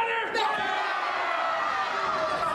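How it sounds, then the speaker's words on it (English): A wrestling crowd at an RCW indoor event roars and cheers steadily throughout, dense and loud from all around, with a commentator's voice partly under the noise. "it looks like this crowd is really behind Diener here"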